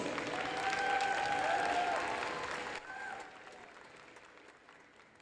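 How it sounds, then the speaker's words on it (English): A school crowd in a gymnasium at the Colors Day court presentation claps in loud sustained applause that tapers off, with a faint voice carrying over the clapping. "Please give them another round of applause."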